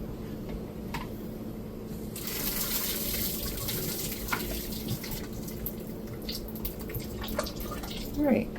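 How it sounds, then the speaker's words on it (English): Boiled potatoes drained from a pan into a small strainer, a steady broadband rush of pouring water with faint splashes and drips, fairly close, running continuously with a louder surge near the end. "I'm going to have my son drain them in the little strainer that I got out at the beginning"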